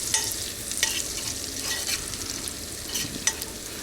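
Lobster and garlic frying in butter in a pan in a Saigon kitchen, with a steady close sizzle and occasional scraping, stirring clicks, no voices.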